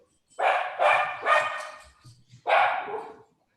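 A puppy barks in a quick run of three sharp yaps, then a brief pause and one more louder bark, close by with no talk.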